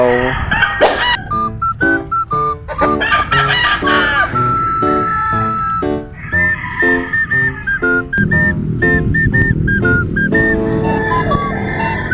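A rooster crows loudly and close several times in a row, each call rising and falling, with clucks and other fowl noises between them.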